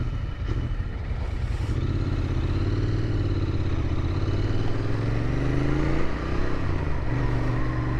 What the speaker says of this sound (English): it's got that perfect little little grumble, as every kind of classic retro bike should have